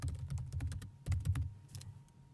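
Rapid keystrokes on a computer keyboard while entering a name, a quick uneven run of close clicks with a short pause before a few final taps.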